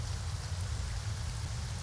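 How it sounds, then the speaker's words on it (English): Steady rain falls in Genshin Impact, a dense, even hiss of drops that stays constant throughout with no voices over it. "Is it because it's just raining?"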